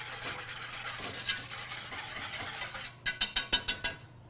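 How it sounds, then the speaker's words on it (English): A whisk works through milk heating in a pot over a medium flame, a steady scraping swirl that ends in about six quick, distinct strokes against the pot. "give that a good whisk"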